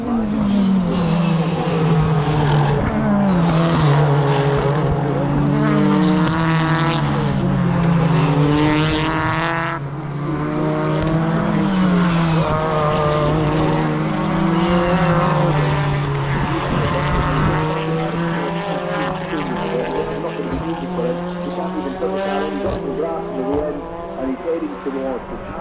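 BTCC touring race cars on track during qualifying at Thruxton, a sustained loud engine drone rising and falling through gear changes, with a commentator talking over it throughout.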